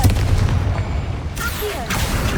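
Confringo fire spell exploding in Hogwarts Legacy on PC, a deep booming blast with a rumbling low-end tail, followed by a couple of fainter magical zaps, with faint voices in the background.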